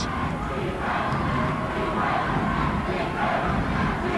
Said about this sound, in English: The chant is defense from the Viking crowd.